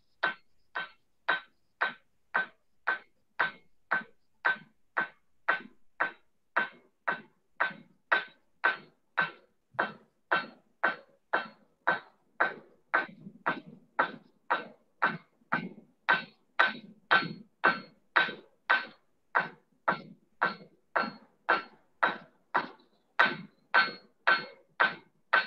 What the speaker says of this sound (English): This is me just brute forcing it through with some crude chisels that I made.